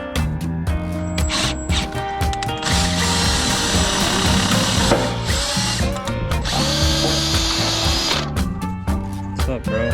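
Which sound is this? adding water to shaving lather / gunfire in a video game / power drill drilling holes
power drill drilling holes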